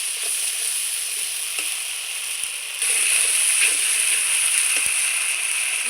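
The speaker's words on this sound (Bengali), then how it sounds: "লবণ হলুদ দিয়ে আবারও আমি খুব সুন্দর করে কষিয়ে নেব" Spices sizzle steadily in a hot pan with salt and turmeric while aubergine with garlic cooks, a continuous close hiss that swells louder partway through, with occasional faint scrapes and no voices.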